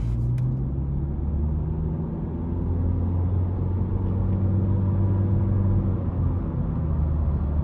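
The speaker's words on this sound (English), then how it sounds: "it has the peppiness I would expect from a Civic, just in terms of the rev range and all that, and how fast it accelerates" A 2022 Honda Civic Sport with the 2.0 engine drives and accelerates in normal mode, a steady low cabin rumble with the engine note rising as it pulls, and no talking over it.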